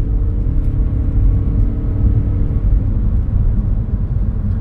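Inside a Toyota Auris hybrid car as it accelerates on a road, a steady, close, low engine and road rumble with a faint whir.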